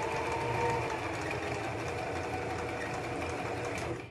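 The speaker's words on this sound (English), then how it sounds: "just sew towards the line that's here from the original seam" A sewing machine runs continuously, stitching a seam on a child's hat, with a steady close whirring hum and rapid needle clatter throughout, no voices.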